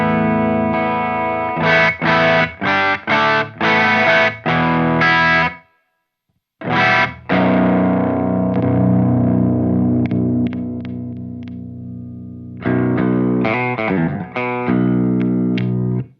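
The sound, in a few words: electric guitar through Horizon Devices Precision Drive pedal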